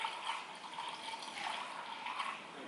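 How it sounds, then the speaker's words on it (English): Water poured from a container into the windscreen washer reservoir of an Isuzu MU-X 4WD, a steady close splashing pour that runs unbroken, with no talk. "Top that up with water."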